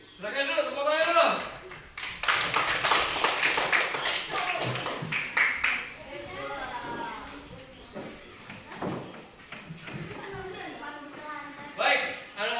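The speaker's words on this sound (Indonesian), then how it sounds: "Silakan dulu, tepuk tangan dulu." Elementary schoolchildren clap their hands in an Islamic religious education class, with bursts of rhythmic clapping mixed with children's voices and classroom chatter, louder in the first half and followed by talking.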